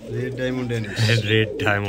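Danish pigeons at a pigeon farm coo in low, continuous rolling calls across the whole short stretch, close and fairly loud, with voices mixed in.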